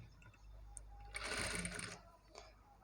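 Sewing machine top-stitching main fabric over invisible neck piping, a quiet, rapid mechanical whir of the needle running for under a second between softer handling sounds.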